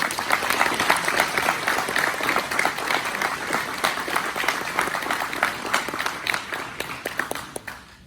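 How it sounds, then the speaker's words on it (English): An audience applauds Governor Lee at an Accurate Energetic Systems expansion announcement, a loud, sustained wash of many hands clapping that holds steady for several seconds before fading slightly at the close. "ladies and gentlemen, a great round of applause."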